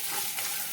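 Black sesame seeds with ginger and chili paste sauté in a pan, giving a steady close hiss of sizzling oil throughout with no talking.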